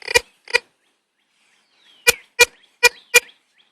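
Six short electronic beeps from a metal detector signalling a good target, a penny, at an old ball field: a pair then four evenly spaced, sharp and clear with silence between.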